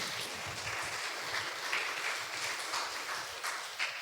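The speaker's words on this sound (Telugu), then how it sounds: "ఒకసారి చప్పట్లు కూడా దేవుని స్తుతించండి." A church congregation claps during a Sunday service, a dense, even patter of many hands heard at moderate distance for about four seconds with no talking over it.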